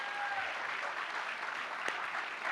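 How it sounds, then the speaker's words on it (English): Applause from an audience at a college credential ceremony, a steady spread of soft clapping that stays distant and fairly faint throughout, with one brief louder clap near the end. "Let's give him another"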